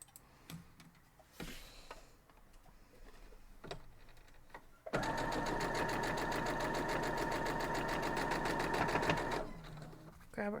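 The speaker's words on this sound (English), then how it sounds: "So we're just going to head over and sew that down." A sewing machine stitches quilt block pieces in one sustained, loud, rapid whirring run lasting about four seconds, preceded by scattered handling clicks and rustles.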